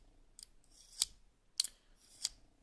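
A knife blade drawn through a Lansky Blademedic sharpener, three separate sharp, scraping strokes in a steady rhythm, close up and alone against a quiet background.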